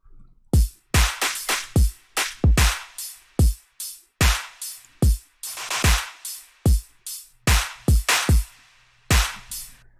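Punchy electronic drum pattern with deep, booming kicks and crisp percussive hits in a syncopated groove, loud and dry with short gaps between beats.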